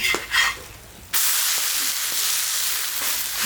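Palm tuber dosa made with rice flour cooks on a hot pan, giving a steady loud sizzle that starts abruptly after a quieter stretch of faint clinks and continues alone.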